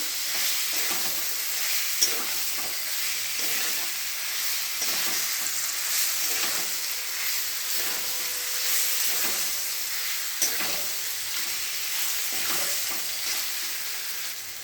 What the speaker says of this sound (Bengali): আলুটা দিয়ে ভালো করে কষিয়ে নিই আর একটু